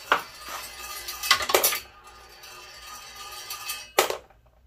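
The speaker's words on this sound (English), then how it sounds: "I like it when they hit it." Steel balls strike a metal cabinet catch box with an integrated ammo sorter, giving several sharp, ringing clangs spaced irregularly over a faint background, close and fairly quiet, with no voices.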